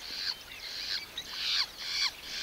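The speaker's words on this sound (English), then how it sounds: "That's why so many birds are squawking around here." Fiscal shrikes in the Serengeti call in a run of short, raspy squawks and chirps, fairly faint and repeated over a soft outdoor background.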